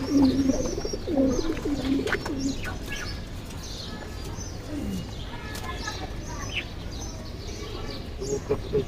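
Pigeons coo in a loft as young birds are coaxed out to fly, with soft wing flaps and a person's repeated calling voice mixed among the birds' low, rolling calls.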